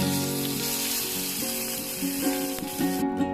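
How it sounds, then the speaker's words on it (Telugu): Loud, continuous sizzling and crackling as hot oil tempering with cumin, dried red chillies and curry leaves is poured into methi tomato chutney, steady throughout and ending abruptly. "ఇప్పుడు తాలింపు చట్నీలో వేసుకుందాం."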